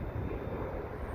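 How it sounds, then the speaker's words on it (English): A helicopter flying off outdoors near a pond, heard as a steady broadband rotor-and-engine rumble that holds even throughout, moderately loud and with no talk over it. "There goes that helicopter."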